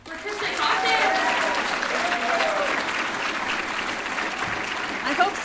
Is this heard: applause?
yes